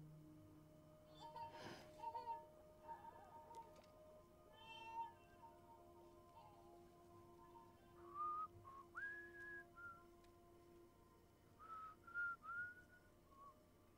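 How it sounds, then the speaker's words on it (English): A person whistles a wavering tune in the video game Death Stranding, thin and fairly faint over a low steady hum, in several short phrases spread across the stretch. "That's somebody other than Cliff whistling."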